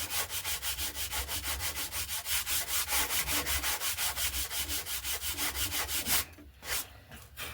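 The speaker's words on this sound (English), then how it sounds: "we just take that block and just sand across our plywood base of our wingtip into the aileron" A sanding block rubs steadily back and forth across the plywood wingtip of an RC glider, a close, even rasping rhythm of about four strokes per second that stops near the end.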